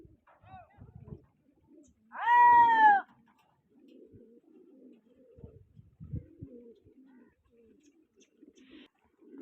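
A pigeon gives one loud, close coo at a gathering of many pigeons for a competition in Taunsa Sharif, Pakistan, while softer low murmurs and faint rustling fill the quiet spaces around it.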